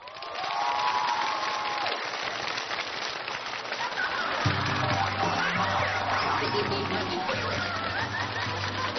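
Studio audience applause on a Chinese TV variety show, a broad, steady wash of clapping that fills the whole clip at high level, with a low humming music bed entering partway through.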